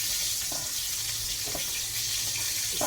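Flour-coated chicken pieces sizzle in a hot frying pan on a home stove, a steady bright hiss of oil with soft pops and faint knocks underneath, close and continuous.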